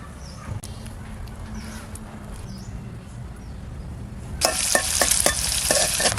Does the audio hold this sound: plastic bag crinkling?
no